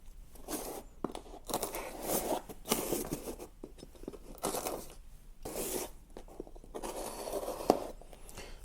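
Packaging for a Spyderco Manix 2 Cruwear folding knife is sliced and torn open with a series of crunchy, scraping strokes and rustles, close-up and irregular, with brief pauses between cuts.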